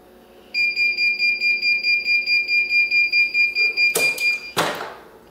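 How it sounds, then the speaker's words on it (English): Heat press used for DIY T-shirts beeps in a rapid steady run of about twenty pulses at the end of its 10-second timer, followed by two brief handling clatters. "Every time it beeps, that means it's been down for 10 seconds."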